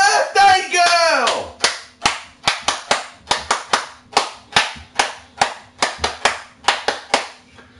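Hands clap out an improvised clap dance: after a brief vocal squeal, about twenty loud, crisp claps follow in a steady, lively rhythm with short pauses between groups.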